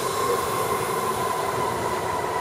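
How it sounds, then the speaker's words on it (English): A small local urban train rumbles at a station with a faint tonal whine over steady rolling noise, fairly distant and moderately quiet. "the local trains, so like the urban, these are little urban trains"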